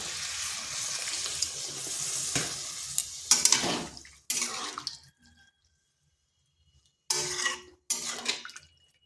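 Water is poured into a pan of cauliflower stems cooking in fried spices, giving close, loud bursts of splashing and sizzling that break off into short silences before two more brief pours.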